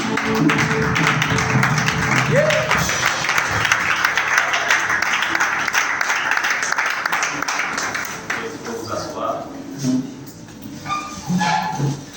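Church congregation applauding Jesus: sustained, dense clapping with voices mixed in, fading after about eight seconds into sparser sounds and talk.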